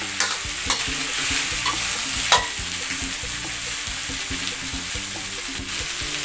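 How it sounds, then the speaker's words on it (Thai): Mixed vegetables stir-fried in a pan, with a spatula scraping and tossing in steady strokes over a continuous loud sizzle, close by and with no voices. "พัดไปเรื่อย ๆ ครับ"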